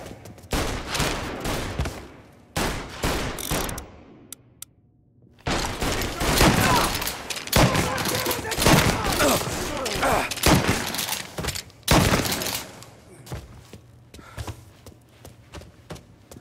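Rapid gunfire shootout in Mafia Definitive Edition, bursts of shots in quick clusters with short pauses, then a long dense stretch of overlapping fire, loud and close, with occasional shouting underneath.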